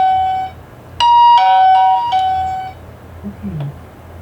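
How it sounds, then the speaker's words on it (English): A proximity alarm chimes in bright electronic tones, a sustained beep then a cluster of stepped notes, loud and near over a low background hum. "It's a proximity alarm, lets you know he's getting close."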